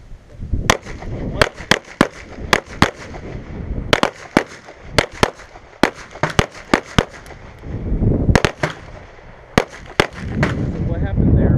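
Pistol shots fired at a target during a defensive shooting drill, many sharp, loud cracks in quick uneven clusters across the whole stretch, with brief voices and range noise between volleys.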